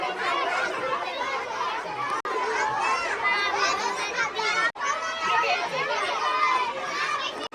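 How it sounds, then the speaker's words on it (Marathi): Dense, continuous crowd chatter fills a busy school fun fair, with many overlapping adult and children's voices and playful shouts close around, steady throughout with two brief dropouts. "गर्दीच खूप झाली या ठिकाणी"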